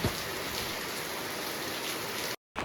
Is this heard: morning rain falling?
yes